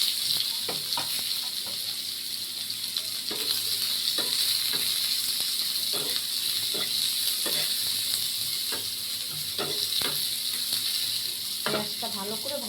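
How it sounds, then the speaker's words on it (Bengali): Onion frying in a pan, a continuous loud hiss of sizzling oil with regular scraping taps of a spatula stirring every second or so, close up and without any voices. "এবার আমি এই পেঁয়াজটা ভেজে দিই।"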